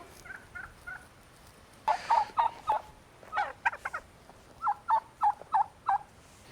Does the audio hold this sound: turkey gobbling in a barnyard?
yes